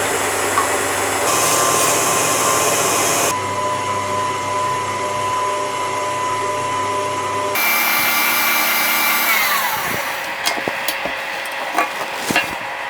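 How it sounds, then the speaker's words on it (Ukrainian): An electric mixer whips egg whites with a pinch of salt and lemon juice at medium speed, giving a loud, steady motor whine that shifts pitch when the speed changes, then winds down into a few scattered clinks. "Збиваємо на середній швидкості до м'яких піків."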